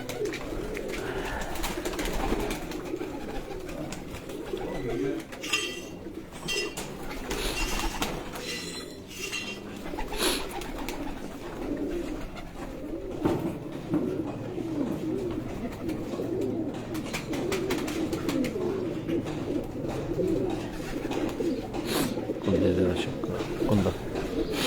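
A Teddy pigeon kept at home coos softly among other bird calls while voices talk nearby and dishes and cutlery clink now and then in the background.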